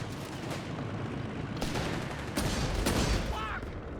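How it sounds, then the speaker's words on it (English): German Panzerbüchse anti-tank rifles firing in the WWII strategy game Company of Heroes 3, a few sharp reports over continuous battlefield noise, with a voice faintly present. "they shot me with their anti-tank rifles"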